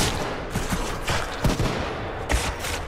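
Gunfire in the Titanfall 2 video game: a dense, steady barrage of shots with several sharper cracks standing out, filling the whole stretch with loud, continuous combat noise.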